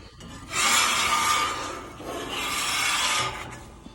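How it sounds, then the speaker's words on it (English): A metal scraper dragged across a hot griddle set on high, giving two long, loud, harsh scraping strokes close by. "So to clean it, I just scrape."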